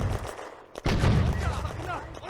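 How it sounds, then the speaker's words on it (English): Soviet mortar rounds and gunfire sound in the World War II game Firefight on the Eastern Front: a loud, dense rumble of blasts and shots, a short gap, then another heavy burst close by. "More Soviet mortars fall behind Walter's squad."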